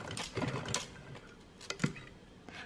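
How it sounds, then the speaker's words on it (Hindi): A sewing machine stitches a plain suit with brief, quiet bursts of mechanical ticking and clattering, stopping and starting across the moment. "तो बस अब टांका लगा देंगे इसके ऊपर ताकि ये ऐसे ही बना रहे"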